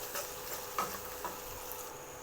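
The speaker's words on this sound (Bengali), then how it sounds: "এখন আমি দিয়ে দেবো এতে লঙ্কা বাটা। এটা দিয়ে এবার ভালো করে একটু নাড়িয়ে নিই।" Chili paste stirred and fried in a pan, a soft, low sizzle with a few light scraping strokes of the spoon, quiet and close with no talk.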